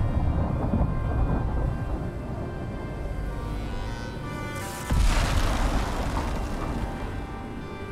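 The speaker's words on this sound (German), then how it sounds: "Ich glaube, er hat gerade einen Blitz in mein Haus eingeschlagen" Thunder rolls through a storm in the survival video game Icarus, a loud continuous rumble with rain, then a sharp lightning crack that strikes a house and swells the roar again.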